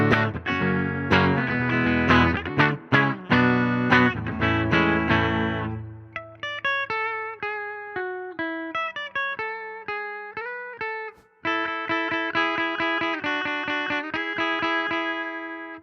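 A Squier Paranormal Super Sonic electric guitar plays through a Fender Tone Master Super Reverb amp: strummed chords ring out first, then single-note melodic lines and brighter picked phrases with a touch of reverb.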